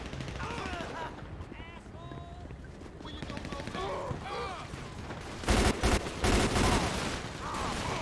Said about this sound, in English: it's a gang shootout going on, man